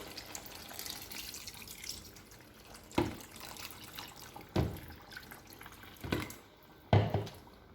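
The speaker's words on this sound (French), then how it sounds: "Je vais ajouter encore un peu d'eau." Water is poured into a Spanish paella in a pan: a soft, steady liquid wash with several distinct splashing pours at intervals, fairly quiet and without speech.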